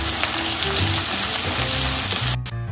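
Shrimp hit a hot frying pan already holding onion, garlic and green chili, giving a loud, dense sizzle with some stirring clatter before the frying quickly dies down at the end.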